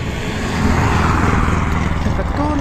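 A Mitsubishi rally car roars past at a snowy winter rally in Alūksne, its engine a steady, loud broadband rush that fills the whole moment with no clear gear changes.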